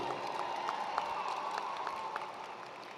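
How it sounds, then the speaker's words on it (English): An audience at a Fairleigh Dickinson University commencement ceremony claps in a sustained, dense round of applause that sounds fairly distant, with a steady rumble of many hands throughout. "I can tell by your applause"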